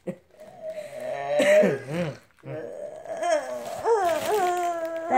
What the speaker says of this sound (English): Yeah, that's the sound of helium.